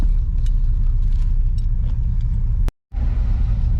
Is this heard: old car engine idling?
yes